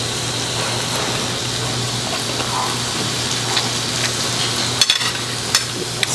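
Meat sizzles on a Korean BBQ grill with a continuous, close, even crackle and hiss. A few sharper pops and clicks break through near the end.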